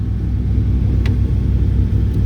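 Car engine idling in cold snowy weather during a winter storm, a steady low rumble with no voices.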